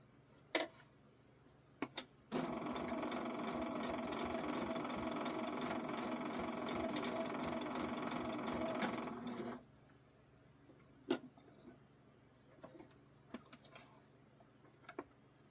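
A sewing machine stitches in one continuous run of about seven seconds, a steady close mechanical whir with rapid ticking, bracketed by a few isolated clicks and handling taps in a quiet room.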